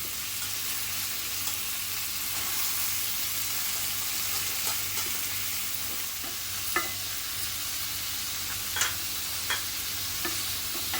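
Chunks of pumpkin and cluster beans fry in hot oil tempering while being stirred, with a steady close sizzle and occasional sharp scrapes of the spoon against the pan.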